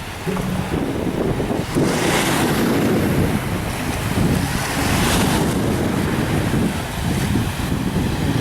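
Ocean waves washing onto a beach at Martigues, a loud, continuous roar of surf mixed with heavy wind buffeting the microphone.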